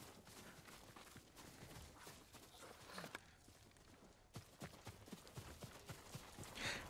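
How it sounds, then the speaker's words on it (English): Horses galloping in the video game Ghost of Tsushima, a steady fast clatter of hooves that is faint and distant, with no talk over it. "Horses, they're coming for us."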